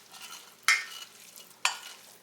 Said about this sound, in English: put it in your skillet, and get all that mixed together and incorporated